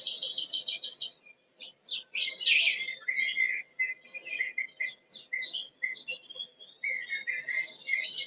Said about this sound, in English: You might take a moment to name 3 different birds that you can hear